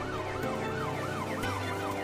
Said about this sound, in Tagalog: Tunog ng sirena. bakit may mga pulis dito?